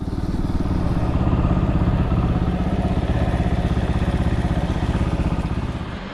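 Fantic Casa 250 EFI motorcycle engine running steadily while riding near a dealership in Bradford, a loud, continuous low buzzing drone with a fast pulsing rhythm, close and unbroken throughout without any talk.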